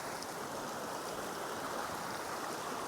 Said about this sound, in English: And there's water everywhere coming down.